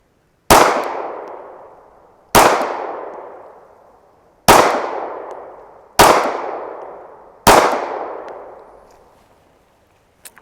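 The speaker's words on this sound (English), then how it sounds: "This is my first shot through the Z320." Five loud, single pistol shots from a Zev Z320 Compact fired at a range, each sharp crack ringing out and decaying, spaced a couple of seconds apart, with no speech.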